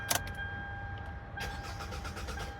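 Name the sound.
Hyundai Elantra engine cranking but not starting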